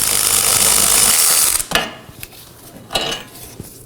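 Removal of a caliper bracket bolt on a 2018-2024 Chevrolet Equinox rear axle, with an 18mm bolt: a steady loud mechanical whir for about a second and a half, then a few sharp metallic clanks and knocks.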